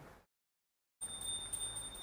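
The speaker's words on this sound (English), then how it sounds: "please ring the bell as you do so" A small ritual hand bell rings continuously during a water offering in a devotional ceremony, a faint, bright, steady jingle that starts after a brief silence.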